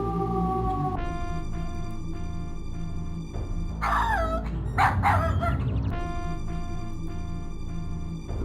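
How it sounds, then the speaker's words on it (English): A dog barks repeatedly in King's Quest VII: The Princeless Bride, with a burst of loud yips and whimpering barks in the middle, heard over steady game music. "So if you hear the dog barking, that means that they're home."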